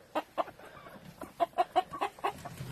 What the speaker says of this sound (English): That is our rooster.